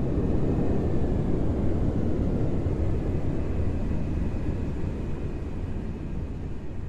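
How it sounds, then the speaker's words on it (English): Three Rolls-Royce RB211 jet engines on a Delta Air Lines airliner roar as a dense, continuous broadband rumble heard from inside the aircraft, holding steady and easing slightly toward the end. "The three RB211s spool down to their idle flight setting."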